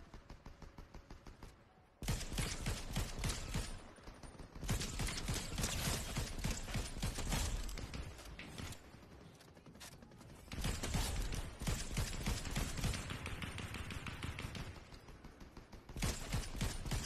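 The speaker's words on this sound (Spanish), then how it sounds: "Hay disparos por allá." Video game gunfire in Kao the Kangaroo: bursts of rapid, crackling shots repeat across the span, loud and dense, with brief quieter gaps between volleys.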